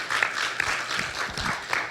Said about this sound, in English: I just want to give one round of applause for our Meizon band this morning.